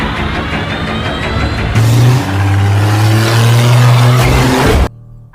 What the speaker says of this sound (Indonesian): lalu masuk ke dalam mobil dan pergi secepat mungkin